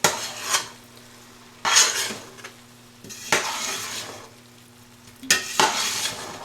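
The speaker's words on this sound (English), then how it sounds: "We'll give it a little stir." Ground beef stirred in a pan for lasagna: four bursts of spoon scraping and clattering against the pan, with a faint sizzle and low hum in the pauses.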